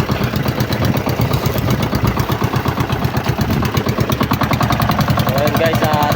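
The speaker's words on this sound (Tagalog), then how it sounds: "Naka-under na yung makina natin." A fishing boat engine runs at sea, a loud steady rapid thumping knock close by with a chugging rhythm throughout.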